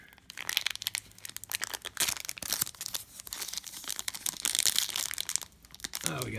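The crinkly foil wrapper of a 2018-19 Panini Prizm Basketball retail card pack is twisted and torn open in close, irregular bursts of crackling, with faint talk underneath.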